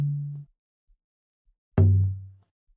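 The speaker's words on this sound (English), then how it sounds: "Yeah, and this is what the tom sounds like. Or a conga, basically like a conga" Two separate hits of a synthesized tom with a conga-like tone for an amapiano beat, each a round, pitched, short-decaying thump heard alone, the second struck after a pause and ringing slightly longer.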